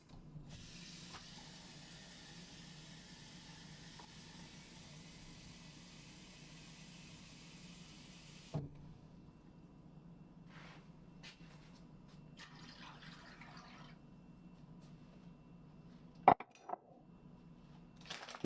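Water pours steadily into a pot of braising liquid that already holds wine, a continuous hissing fill for several seconds, then a few soft knocks and clatters after it stops.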